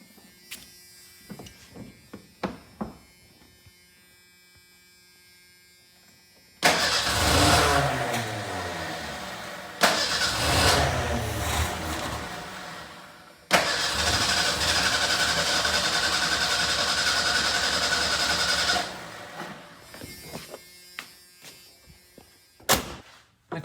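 A replacement engine in a 1988 Ford Ranger cranks in three loud bursts, the last one catching into a steady, sustained run for several seconds before it cuts off, with quieter clicks and shop noise in between.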